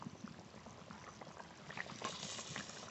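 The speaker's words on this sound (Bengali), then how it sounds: "ঝোল ভালো করে জাল দিয়ে নিয়েছি," Fish curry gravy with potatoes bubbles in a pot, a soft, steady boiling burble with small pops, close but faint, with no voices.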